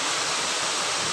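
Air Terjun Penembang, a quiet waterfall, pours with a loud, steady broadband rush of falling water, unbroken and close, with no voices.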